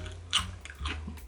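Crunchy fried chicken bitten and chewed up close: two sharp crackling bites about half a second apart, followed by softer chewing noises, with no talking.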